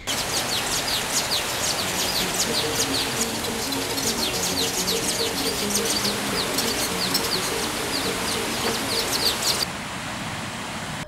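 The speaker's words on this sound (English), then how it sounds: "birds and monkeys sing and jump respectively from the surrounding rainforest" Birds sing and chirp steadily from the rainforest around Ssezibwa Falls in Uganda, many overlapping calls and tweets near and far over a constant rush of water, continuing alone without any talk.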